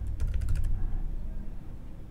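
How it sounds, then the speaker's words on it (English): Keystrokes on a computer keyboard, a quick burst of about half a dozen clicks in the first second, fairly close, followed by quiet room noise. "So I'm just going to type yellow."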